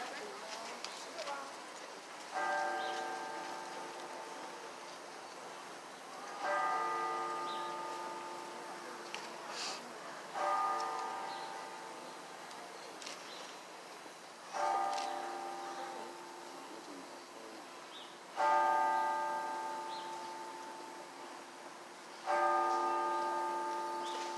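A church bell tolls in memory of hate crime victims, struck about six times at slow, even intervals, each stroke ringing clearly and then decaying, over a faint background hum.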